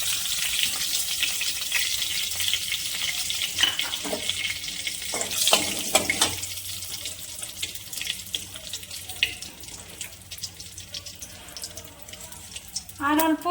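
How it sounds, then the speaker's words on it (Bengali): Whole spices, bay leaves and whole garam masala, tempering in hot mustard oil left from frying fish, a continuous close sizzle with scattered crackles and spatters, a voice briefly heard. "এবার ফোড়ন করে নিচ্ছি"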